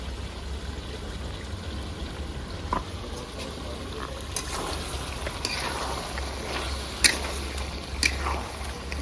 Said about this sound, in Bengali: এবারে আমি কাজু, পেঁয়াজ আর কাঁচা লঙ্কা বাটাটা দিয়ে দেবো।